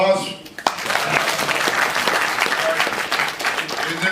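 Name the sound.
audience applause at comic con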